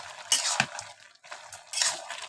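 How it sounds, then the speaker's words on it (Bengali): A spoon stirs bottle gourd curry in a pot, scraping and clinking against the metal in a few bursts with short pauses between strokes, close and alone. "যে আবার লেড়ে দিতেছি।"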